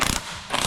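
A flexi ratchet clicks in two short rapid bursts, separated by a brief pause, while undoing an 18mm shock absorber top nut on a Vauxhall Corsa D. The sound is close and fairly quiet.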